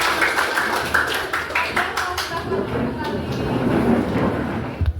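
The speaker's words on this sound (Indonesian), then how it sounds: "Oke, tepuk tangan untuk kita semua." A class of students claps together in a classroom, a dense run of overlapping hand claps with voices and chatter mixed in, lasting steadily throughout.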